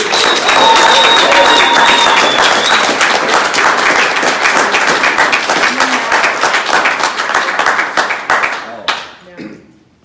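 An audience claps and cheers loudly for a graduate of a Fresh Start program, a dense, steady burst of applause that carries on for several seconds before tapering off near the end.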